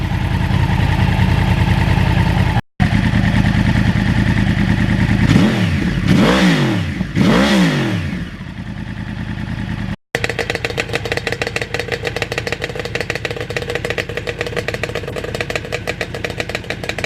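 A Yamaha motorcycle engine, part of a Ninja restoration, runs loud and close in a moist garage. It idles with a steady clatter, revs up and down in several swells, then settles back into a fast, even idle.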